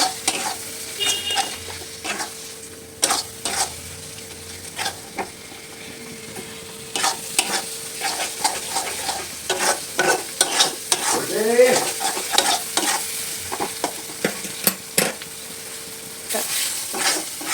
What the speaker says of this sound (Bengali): আমি মশলাটাকে ভালো করে কষিয়ে নিচ্ছি, তেল না ছাড়া অবধি মশলাটাকে ভালো করে কষিয়ে নিতে হবে